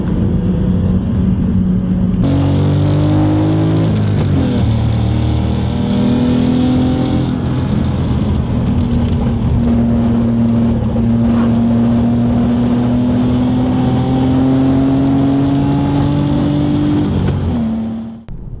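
A 2001 Audi S3 engine idling and then revving, with a loud, sustained drone that climbs in pitch through several rises and holds near and steady for a long stretch before cutting off.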